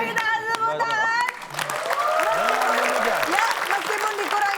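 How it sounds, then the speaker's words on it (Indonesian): Studio audience applause on an Indonesian comedy quiz show, a broad continuous clapping wash rising after a brief host remark, with talk and cheering blended in. "Oke, kita kasih tepuk tangan."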